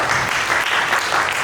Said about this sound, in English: now I would like to ask for an applause to the youth orchestra.